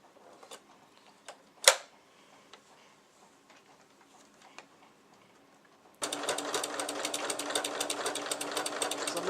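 A sewing machine fitted with a walking foot stitches through thick layers of fabric. A few quiet clicks and taps come first, then a loud, fast, steady run of stitching carries on to the end.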